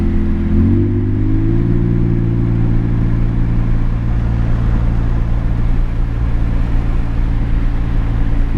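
Mercedes W205 engine with its exhaust valves open, a loud, close droning hum that jumps in pitch as the car downshifts, then holds a steady, throaty note from inside the car.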